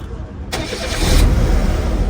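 A car engine in a workshop, unbalanced, with missing sensors and dropping rpm, catches with a sharp onset and runs on loudly and roughly, heard up close.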